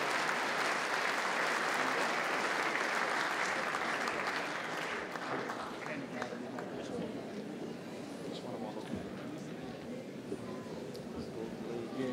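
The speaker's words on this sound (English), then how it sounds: "Give them a clap." Audience applause at a junior sports club presentation night, full and steady at first, then thinning into scattered claps, shuffling and chatter as the players come up.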